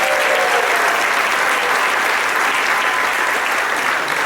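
Wedding guests applaud the speakers in a loud, dense, sustained wave of many hands clapping together, steady and unbroken from start to finish, with no speech over it.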